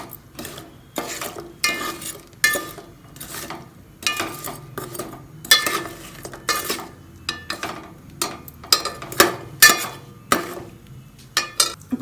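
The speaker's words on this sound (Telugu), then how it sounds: "ఒక మందపాటి గిన్నెలో ఈ బెల్లం వేసుకొని కొంచెం వాటర్ పోసుకొని బెల్లం కరిగేంత వరకు తిప్పుతూ ఉండాలి" Jaggery and a little water stirred in a thick-bottomed pot until melted, a spoon knocking and scraping against the metal in a steady series of close, sharp clicks and scrapes with no talking.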